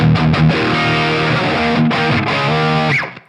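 An electric guitar plays through a BT PT50 distortion pedal preset, giving a loud, thick overdriven tone with sustained chords and a few short picked notes that ring out and fade at the end.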